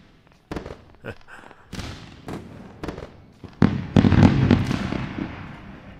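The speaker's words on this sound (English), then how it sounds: "Let's go with a round of fireworks." Fireworks sound effect during a live day-trading stream: scattered sharp pops and crackles build into a dense, loud cluster of bursts that trails off into fading crackle, with no talk over it.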